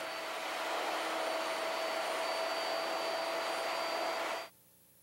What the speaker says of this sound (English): To cut the mortise, plunge a series of overlapping holes. Then, route side to side to clean it out.